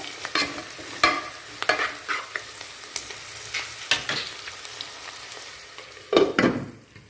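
Onions sizzle in a hot pan while a spoon scrapes and stirs in irregular strokes, close and fairly loud, with no talking.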